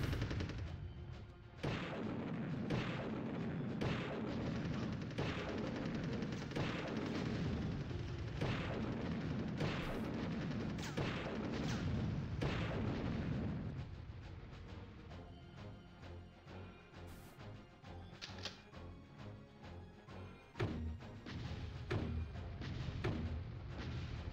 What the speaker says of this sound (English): Shoot bazooka.